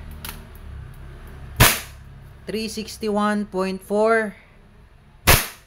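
A KJWorks KP-06 airsoft pistol fires three sharp, loud cracks spaced well apart, with a voice speaking between the second and third shots.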